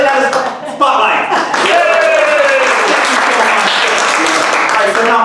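A comedy show audience at a Miami club applauding and cheering, a loud, dense, sustained wash of clapping mixed with whoops and shouting voices throughout.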